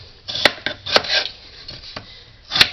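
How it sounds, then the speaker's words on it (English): Knife chopping potatoes into chunks on a cutting board for a New England boiled ham dinner, a handful of sharp, uneven thunks spaced across a short stretch, close and moderately loud with no talking. "So I just have them and then cut them in like 6 pieces"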